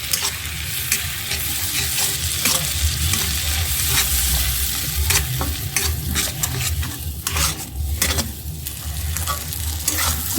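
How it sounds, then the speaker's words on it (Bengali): Onion and spice masala frying in a pan for a fig bharta, loud and close, with continuous sizzling broken by repeated scraping and stirring strokes throughout. "পেঁয়াজটা ভালো মতো ভেজে তারপর মশলা দিয়ে দিলাম"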